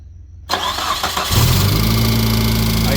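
A 2003 Mitsubishi Eclipse engine cranks and fires up after a short quiet moment, then settles into a loud, steady running note with a persistent abnormal mechanical noise mixed in, heard close up.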